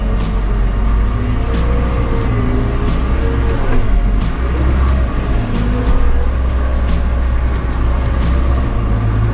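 A new JCB 3CX Stage V backhoe loader, in four-wheel drive and first gear, runs its engine loudly and steadily while digging into the ground, a close continuous diesel rumble with shifting load.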